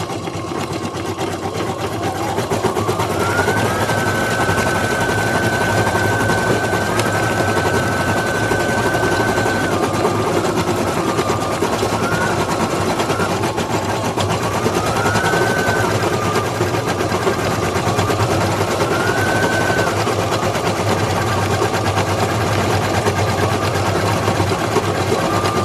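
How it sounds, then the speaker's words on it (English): An embroidery machine stitches a small flower onto a sugar skull mask, a continuous close mechanical whir with a rhythmic stitching pulse and brief rising and falling tonal whines as it moves. "it's going to stitch the little flower right here."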